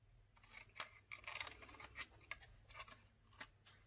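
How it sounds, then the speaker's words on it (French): Scissors snip through paper to cut out flowers for a Mother's Day card, giving a quiet series of irregular close snips and crinkles. "donc on coupe, pardon, comme ceci"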